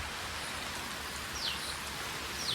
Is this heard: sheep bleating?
no